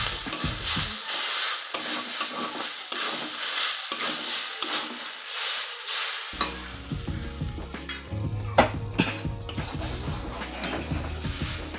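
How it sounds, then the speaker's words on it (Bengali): Taro root curry with spices being stirred in a pan, a spoon scraping and clanking against the metal while oil crackles and sizzles steadily underneath, close and clear with no talking. "এখন আমি নাড়িয়ে নিব।"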